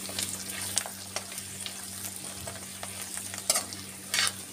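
Spices for channa chilli, including dried coriander and kasuri methi, sizzle softly in a pan while a spoon stirs them, with scattered scraping clinks over the steady frying hiss.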